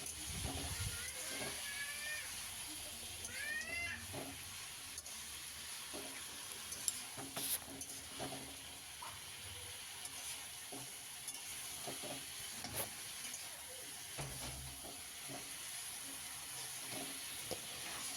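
Fried cauliflower and potato sautéed in a pan for a fish curry, giving a soft, steady sizzle with frequent clinks and scrapes of stirring throughout.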